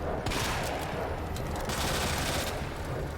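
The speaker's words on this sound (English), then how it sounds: "This room is going to be a combination of shotgun and submachine gun." Shotgun blasts and submachine gun fire from Resident Evil 2, a dense, loud run of overlapping shots that continues without pause for about three seconds.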